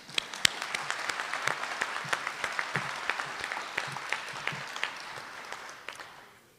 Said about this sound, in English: we'll give you a round of applause anyway